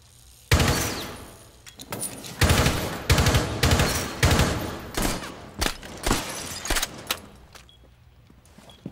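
Loud bursts of automatic gunfire in Rainbow Six Siege, several rapid volleys in a row with short gaps, fading to scattered single shots toward the end.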